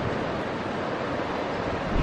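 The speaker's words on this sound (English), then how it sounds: "The waves are bursting" Sea waves crash against rocks below a cliff face, a loud, continuous roar of surf and spray that swells slightly toward the end, with no voices.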